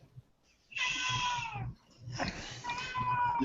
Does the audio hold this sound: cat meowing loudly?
yes